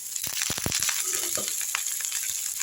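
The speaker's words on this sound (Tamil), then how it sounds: "அடுத்து பச்சை மிளகா. ஃப்ளேமை ஃபுல்லாக கம்மி பண்ணி வச்சுருங்க. நல்லா வதக்கி விட்டுருங்க." Green chillies sauté in a pan with curry leaves over low flame, a steady close sizzle with a few sharp crackles and stirring scrapes near the start.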